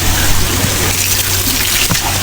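Spring water gushes strongly and steadily from an outdoor source on a farm, a loud, continuous rushing flow up close with no talk over it.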